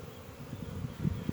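Honeybees buzzing around an open apiary hive during an early summer inspection, a low, steady close-range drone with slightly louder swells as individual agitated bees pass near.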